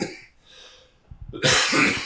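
A single close cough bursts out after a quiet breathy moment, sharp and loud, with no talking.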